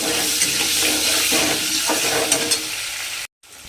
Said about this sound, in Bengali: আলুটাকে আমাকে একটু লাল করে ভেজে নিতে হবে